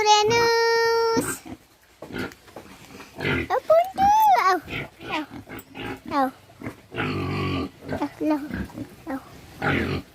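Pigs on a village pig farm in eastern Nepal grunt and squeal in short bursts, mixed in with people talking nearby throughout, including a high-pitched squeal near the start and another in the middle.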